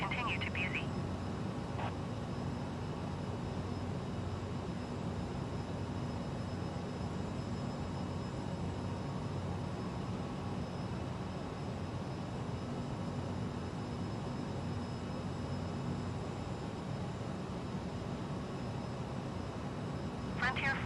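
A Cessna's engine drones steadily while climbing in a flight simulator, a loud, even hum that holds for the whole stretch, with faint radio voices briefly at the start and end.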